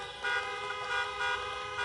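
Car horns honk repeatedly at an outdoor drive-in political rally in Des Moines, Iowa, a steady overlapping chorus of tooting horns with pulsing swells, no speech.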